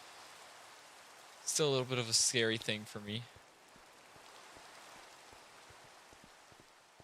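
Rain falls in the Minecraft game world as a soft, steady hiss with faint scattered drip ticks, continuing quietly after a short spoken line from a player.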